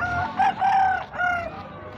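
Rooster crowing with hens clucking nearby at an open-air poultry and pig market in Santa Cruz do Capibaribe, a loud, close, drawn-out crow standing clear of the background.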